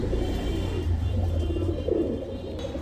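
Silver high-flyer pigeons coo softly in low, rolling murmurs, nearby and steady, with a faint background rumble and no voices.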